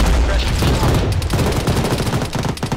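Enemy vehicle gunfire in an ArMA military game unleashes a dense, loud fusillade of rapid automatic shots and booms, continuous and close for the whole stretch.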